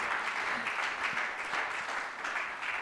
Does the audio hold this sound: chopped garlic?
no